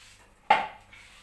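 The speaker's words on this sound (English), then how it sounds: "So I'll cut my tomatoes now" A knife cuts fresh tomatoes on a board, giving a single sharp, close chop with a clattering ring that fades quickly, set against quiet kitchen background.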